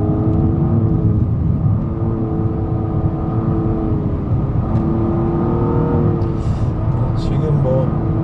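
Nissan Maxima engine revving during a test drive, a steady loud engine note with rising and falling pitch continuing throughout, heard from inside the car with someone talking over it.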